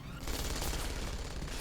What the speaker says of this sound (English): That's a sentry turret.